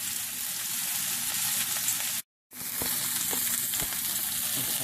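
Buffalo chicken pieces for lettuce wraps fry in a pan, giving a steady, close sizzling hiss with small pops, broken by a brief silent gap midway.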